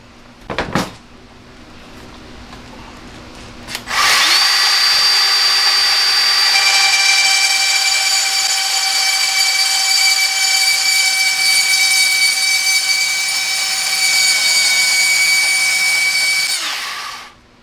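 RIDGID 18-volt compact band saw cutting stainless steel, a loud steady blade whine with bright tones running about twelve seconds after a few short clicks, struggling through the metal.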